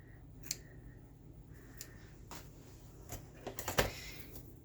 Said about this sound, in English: I'm going to go ahead and trim our lace.